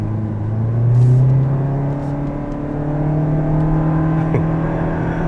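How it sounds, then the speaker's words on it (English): 2023 Toyota Prius with a CVT driving on the road, a steady droning engine hum whose pitch rises slightly and then holds, heard from inside the car, loud and continuous with no talking. "You still get that CVT droning noise"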